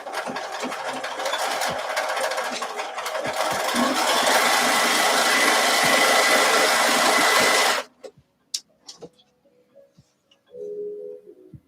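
A home sewing machine stitches a garment seam at a short stitch length. A loud, steady mechanical whir runs for about eight seconds, then stops, leaving a few clicks and one brief final burst.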